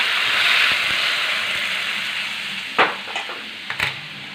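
Cooked moong dal poured into a hot, sizzling tempering for varan, with a loud steady hiss that fades slightly, then a few close clunks and splashes near the end.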